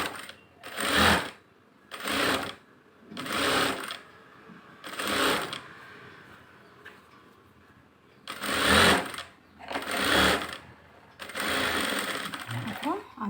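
A sewing machine stitches a blouse in short close bursts of rapid mechanical whirring, separated by brief pauses, with a longer run near the end.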